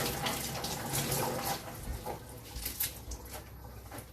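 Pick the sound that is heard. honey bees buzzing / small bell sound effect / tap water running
tap water running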